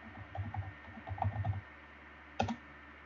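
Mouse clicks in Unreal Engine 4 project settings: a quick cluster of soft clicks, a second cluster, then one sharper isolated click, close and quiet.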